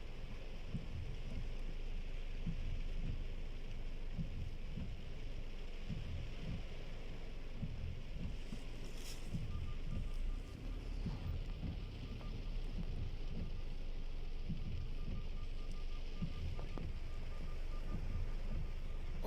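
Heavy, steady rain pours down during flooding in Kuwait amid unstable weather, a dense continuous hiss with wind buffeting the microphone, loud and unbroken throughout.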